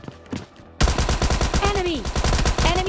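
Rapid bursts of gunfire from Thompson and UMP guns in a battle royale video game, loud close automatic fire starting abruptly after a brief quieter moment, with a short voice and whistling tones in the mix.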